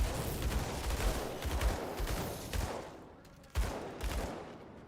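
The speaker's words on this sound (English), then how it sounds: "Silly me, I gotta blow everything up with a gun." Rapid bursts of gunfire from a gun in the action RPG Grim Dawn, a dense crackling fusillade that runs throughout with short lulls, moderately loud.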